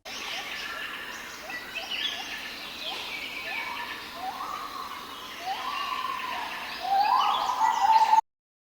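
Doves coo in a series of soft, repeated, hooting calls that rise and fall, rather faint, growing busier and louder toward the end.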